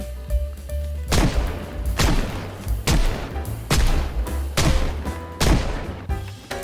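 Six loud, booming gunshots fire at a steady pace, roughly one per second, each with a heavy low thump and a bright crack, in the zombie survival game Project Zomboid.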